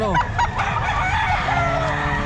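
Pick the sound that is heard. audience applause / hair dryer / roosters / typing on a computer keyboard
roosters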